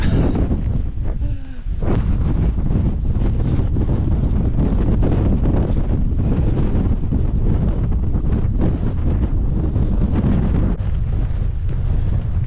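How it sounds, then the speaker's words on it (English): Strong gusting wind roars and buffets the microphone on an exposed hilltop along a long-distance coast-to-coast walk, a loud continuous rush with a brief lull near the start and faint voices mixed underneath. "I'll let go of my hat and let the wind blow it off, as you can see."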